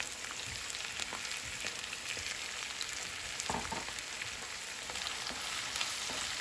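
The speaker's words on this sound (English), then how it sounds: "Now the ginger and garlic have been fried in the oil." Ginger and garlic frying in coconut oil give a steady, close sizzle with faint crackles and a few stirring scrapes, with no talking over it.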